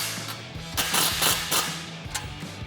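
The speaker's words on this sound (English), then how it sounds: "we're going to tighten this down with that 6mm Allen wrench and 17mm socket" Bolts on a Jeep Gladiator JT soft truck cap roof rack are tightened with a 6mm Allen wrench and a 17mm socket, giving close, rapid ratcheting clicks in short repeated bursts.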